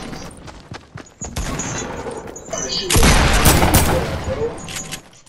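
Gunfire in the video game Fortnite at Dusty Divot, rapid bursts of shots and booms building into a dense loud volley over several seconds, with players talking excitedly over it.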